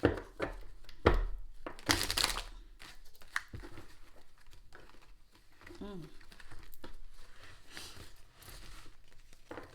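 Quick papery flicks and riffles of a slippery deck of cards being shuffled, with crisp bursts and soft slaps at close range; a voice speaks briefly at times.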